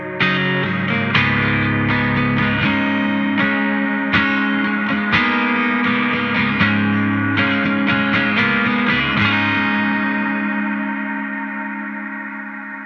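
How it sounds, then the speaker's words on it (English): Reverb-and-delay-drenched electric guitar through a Wonderful Audio Technology Ancient Echoes pedal: dense, distorted chords sustain with thick ambience, then the playing stops and the long reverb tail fades gradually toward silence, alone with no voices. "I'm going to play the tail end of that because I want you to hear the decay of this pedal"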